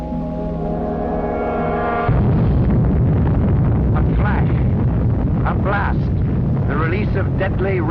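Atomic bomb explosion in an old newsreel, a sudden loud roaring blast that breaks in after a sustained tone and rumbles on with wind-like noise under narration.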